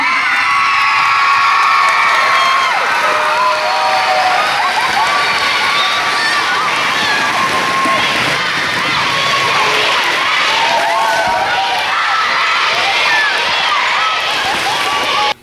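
A large crowd cheers and shouts loudly at a cheer competition as results are announced, with children's voices whooping in a continuous, excited roar that holds steady throughout.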